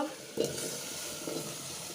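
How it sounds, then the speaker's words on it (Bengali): Chopped bottle gourd stirred into a pan of browned onions and ground spices, a close spoon scrape and clatter followed by steady soft sizzling, quiet and with no voices. "লাউ দিয়ে ভালো করে নেড়ে চেড়ে দেব"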